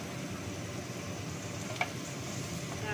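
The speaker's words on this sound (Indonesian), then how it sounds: "Cabe hijaunya ya guys ya, goreng sebentar juga." Green chilies frying briefly in a little oil for tahu lodeh, giving a steady close-up sizzle with a faint crackle that holds evenly throughout.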